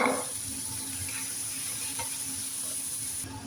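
Tomatoes are dropped into a hot pan with beef for pasta and sizzle steadily. The frying hiss is close, with faint stirring clinks and no talking.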